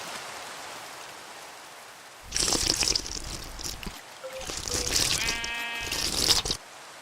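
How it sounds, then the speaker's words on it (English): Sheep in Minecraft bleat in loud bursts over a steady patter like rain, with one drawn-out, clearly pitched bleat standing out near the end. "go look for another wild sheep"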